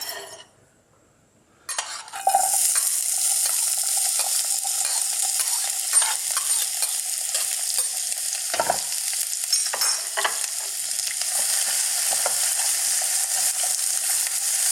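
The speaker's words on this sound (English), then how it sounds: "we're going to start off by frying our garlic and our onions just a little bit" Steady loud sizzling of garlic and onions frying in hot sesame oil in a wok, with occasional clinks and stirring scrapes of a utensil against the pan, after a brief quiet start.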